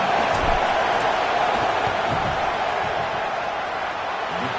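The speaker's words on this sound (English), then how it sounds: "This crowd trying to do its part to get inside the kicker's head." Stadium crowd noise from a PS5 football video game during a field goal attempt: a dense, steady roar that fills the whole clip at a constant loud level.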